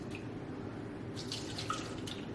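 Leftover liquid from boiled vegetables poured into a crockpot for Cajun smothered shrimp, potatoes and sausage, a soft, steady trickling splash, fairly quiet and brief, with no speech.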